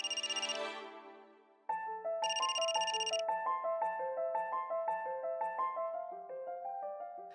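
A telephone ringtone plays a bright, repeating electronic melody of stepped notes, loud and close, with a brief gap before the tune restarts and no voices.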